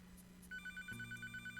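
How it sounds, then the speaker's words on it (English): A telephone rings in the Papa's Pizzeria Deluxe video game, a steady electronic trill that starts partway in and repeats in quick even pulses, with a second ringing layer added soon after. "The phone is ringing."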